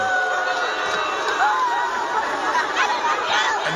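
Concert crowd in Minneapolis booing a female performer after she greets them, a loud, sustained mass of jeering voices and shouting with no break across the whole stretch.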